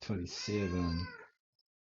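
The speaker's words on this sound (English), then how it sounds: "That's the cat." A house cat meows briefly, overlapping a voice as he speaks nearby, then the sound stops into silence.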